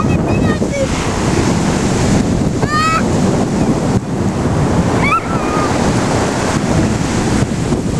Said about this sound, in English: We are here in one of the beaches in the area of Bari